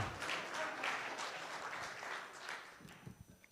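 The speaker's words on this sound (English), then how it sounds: "Oh, we're clapping? We're clapping?" Scattered clapping from a church congregation during a Sunday worship service, quiet and somewhat hesitant, thinning out toward the end with a few isolated claps.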